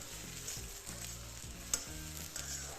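Onions frying over a medium-high gas flame while being stirred in the pan, a steady close sizzle with rhythmic scraping strokes and one sharp clink.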